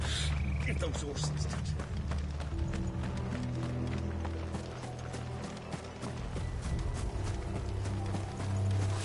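Horse hooves gallop in Final Fantasy 16, a fast, steady clip-clop of several horses that runs throughout over a low rumbling bed of game sound.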